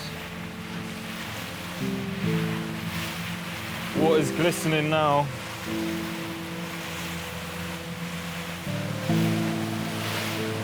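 A rented motorboat cruises at a steady pace across Lake Como, its engine a constant low drone under wave wash, with several people talking over it close by.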